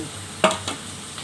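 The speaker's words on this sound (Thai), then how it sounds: "ผัดกุ้งใส่ถั่วลันเตาพี่น้องครับ" Shrimp with snow peas being stir-fried in a pan: a couple of quick scraping stirs over a low steady sizzle, close and fairly soft.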